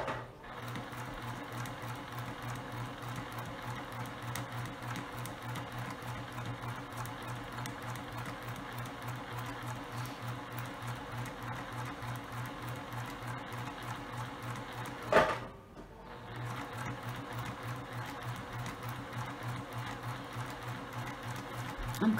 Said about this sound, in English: I'll bring you right back to the edge of the fabric here and continue sewing.